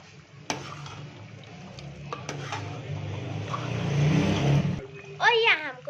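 Spinach and potato sabzi stirred in a pot on a gas stove, with spoon scrapes and clinks against the metal over a soft sizzle that builds before a short pause. A voice is heard near the end.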